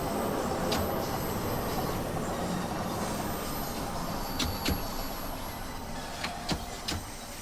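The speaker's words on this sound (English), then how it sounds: "Oh, that's a heck of a turn. Grind those wheels." Train wheels grinding and squealing around a sharp curve in the Train Sim World 2 video game, a steady rumbling roar with several brief high-pitched squeals near the end, no voices.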